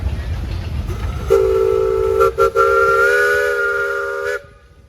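A 1919-era steam traction engine in a threshing show parade in Mason, Michigan sounds a loud, close steam whistle, one sustained chord-like blast with two brief dips midway, over low engine rumble.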